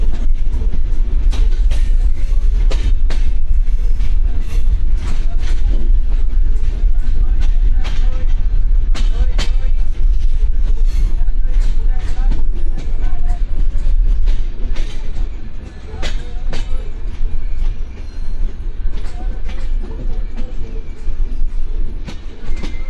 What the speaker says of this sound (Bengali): আমাদের দ্রুতযান এক্সপ্রেস ট্রেনটা ঈশ্বরদী বাইপাস রেল স্টেশনে প্রবেশ করতেছে।